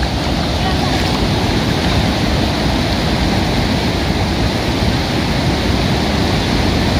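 A river swollen by flooding after Typhoon Rolly rushes beneath a bridge in Banaban, a loud, steady broadband roar of churning water with wind buffeting, continuous and close throughout.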